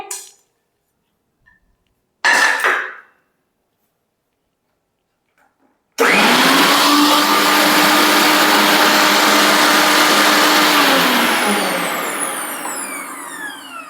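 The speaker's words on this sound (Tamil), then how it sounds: "இதெல்லாம் ஒரு மிக்ஸி ஜார் போட்டு நல்லா அரைச்சிக்கலாம்." A short burst of a mixer grinder, a pause, then a loud, steady whirring grind of fruit in a mixer jar for a spicy fruit salad that runs on and slowly shifts pitch, close by.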